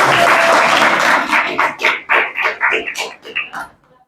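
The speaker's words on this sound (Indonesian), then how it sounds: "Kita kasih tepuk tangan dulu ya." Applause in a classroom, starting as a dense burst of many clapping hands and then thinning into scattered, rhythmic claps and a few voices that fade out toward the end.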